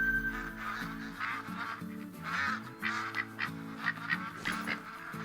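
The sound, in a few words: flock of ducks calling in theHunter: Call of the Wild video game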